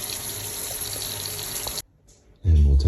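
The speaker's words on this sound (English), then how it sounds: "So very low flow of water when more than one fixture is turned on." Shower water runs at very low flow during a home inspection in Paris, a steady hiss that cuts off briefly before a voice comes in over it.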